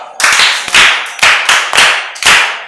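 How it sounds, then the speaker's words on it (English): A short burst of hand clapping, sharp and close, with several quick clusters of claps in an uneven rhythm, like a small group giving brief applause. "A round of applause for her."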